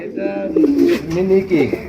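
A few soft, low coos from pigeons close by, warbling rises and falls over about two seconds.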